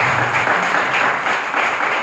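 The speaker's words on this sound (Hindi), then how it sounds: "उनके लिए जोरदार तालियां हो जाएंगी" Steady applause from a seminar audience, many hands clapping together in a dense, sustained wash that stays loud and close throughout without pause.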